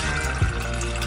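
Water pours into a sourdough mixture in a home kitchen as a brief, steady hissing stream with no talking.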